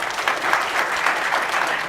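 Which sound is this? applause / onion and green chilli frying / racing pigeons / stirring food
applause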